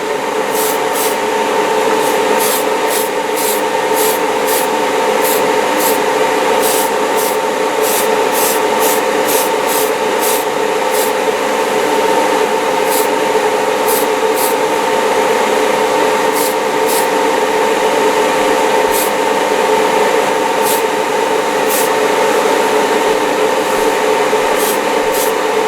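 A loud, steady hiss of spray painting a Revell 1969 Camaro model runs throughout, overlaid with a repeated faint ticking, close and continuous with no speech.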